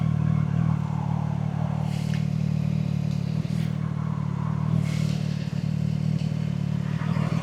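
A CF-Moto 675 SS motorcycle hums steadily while riding on a chilly sunny day, its engine drone loud and constant with wind noise and faint road clatter.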